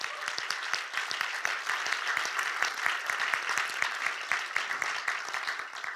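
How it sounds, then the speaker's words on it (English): Audience applause at an evening policy lab event on digital sovereignty at an institute, a steady dense patter of many hands clapping at moderate distance for six seconds without talk. "A big round of applause for them as well."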